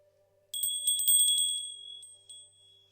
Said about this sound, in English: I'm just going to ring my bell